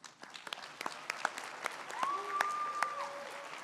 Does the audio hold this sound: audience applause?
yes